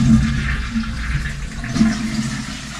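A toilet flushing in an apartment bathroom, a close, loud, continuous rush of water that swirls and drains steadily across the whole stretch with no voices.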